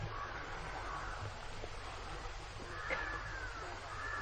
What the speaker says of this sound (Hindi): यहां इतने पक्षियों की आवाजें हैं,